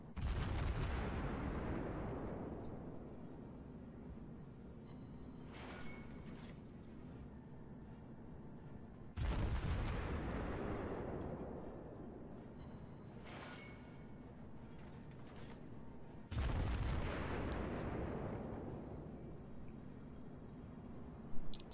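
Naval guns of the cruiser Königsberg firing in World of Warships, three heavy booming salvos spaced several seconds apart, each with a long rumbling decay, heard alone without talk.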